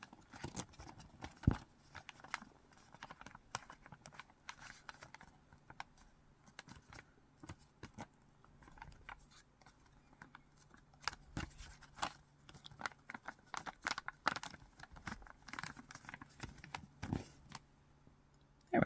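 Paper being folded for an origami cat gives sparse, faint crinkles and soft taps, creases and rustles scattered irregularly at close range, with no talking.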